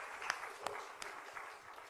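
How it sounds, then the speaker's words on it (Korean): Church congregation applauding during a Sunday worship service, soft steady clapping heard from a distance, fairly faint and even throughout. "뜨거운 박수로"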